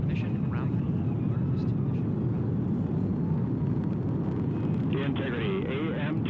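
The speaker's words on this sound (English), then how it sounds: "Mission Control Houston seeing good performance on the main engines." Artemis II rocket main engines during launch, heard as a steady deep distant roar with broad rumble throughout, while radio-style mission commentary plays faintly over it.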